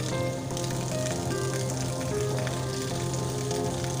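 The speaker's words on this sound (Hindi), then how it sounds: "बहुत तूफ़ानी बारिश हो रही है यहाँ इस वक्त हमारे पास।" Heavy stormy rain pours down in a steady, loud, unbroken hiss, with faint tonal background hum running beneath the downpour and no voices.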